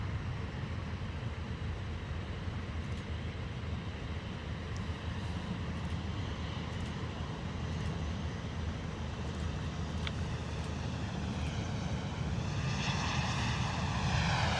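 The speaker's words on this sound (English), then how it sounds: "Boeing 737 in from Tel Aviv." A Boeing 737 airliner comes in to land at London Luton Airport on a misty morning, its steady jet engine roar loud and continuous, rising slightly toward the end as it draws nearer.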